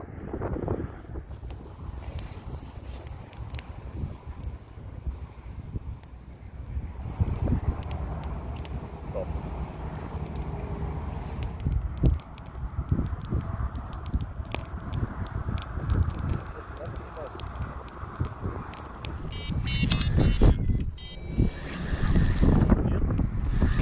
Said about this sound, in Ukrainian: дує легкий такий вітерець